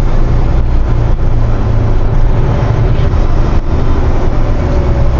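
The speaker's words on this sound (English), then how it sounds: "so you have an idea of just what you'll get in natural engine braking" A 2022 Peterbilt 567 truck with a 605 hp Cummins X15 engine rumbles loudly and continuously as it slows, a heavy, steady drone of natural engine braking while downshifting.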